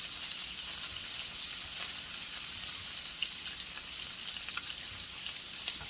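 Eckrich turkey sausage fries in a pan for a cabbage boil, a steady, even sizzle with faint pops while the links are flipped, close and with no talk.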